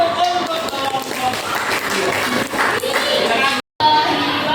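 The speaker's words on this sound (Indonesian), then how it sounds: "tepuk tangan untuk kelompok." A classroom group of students claps together, a dense scattered patter lasting a few seconds with children's voices mixed in, cut by a brief moment of silence near the end.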